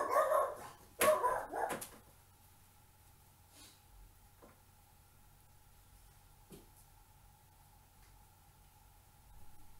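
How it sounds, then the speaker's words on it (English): A dog barks indoors in a quick burst of several sharp, loud barks at the start, then falls silent, leaving a quiet room with a faint steady hum. "Now, I knew my dog would bark."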